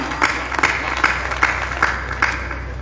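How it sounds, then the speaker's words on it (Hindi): Audience at a poetry recital in an open ground claps steadily, with regular louder swells of applause recurring about every half second over a continuous crowd background. "अगर इतनी तालियां बजानी हो तो मत बजाओ।"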